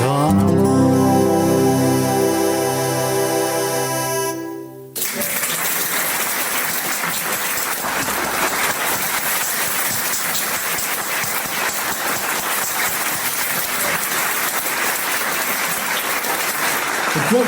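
Audience applause after a folk song performance: the last sustained note of the song fades, then dense, steady clapping fills the room loudly and evenly for a long stretch.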